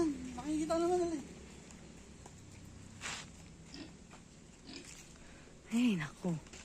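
Pigs grunt and squeal in a rural backyard in the Philippine countryside, with a loud burst at the start and another near the end and quiet shuffling and sniffing between them.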